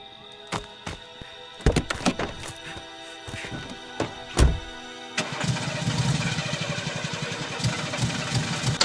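A vehicle engine starting in a video game: several sharp thunks and clicks, then the engine catches and settles into a steady, loud, rumbling idle running to the end.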